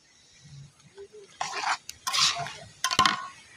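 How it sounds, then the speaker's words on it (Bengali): A spoon scrapes and knocks in a pot as chopped banana flower is mixed with salt and turmeric, in short bursts of stirring and a sharp clink amid quiet gaps. "এবার এইগুলো আমি ভালো করে একটু মিশিয়ে নেবো"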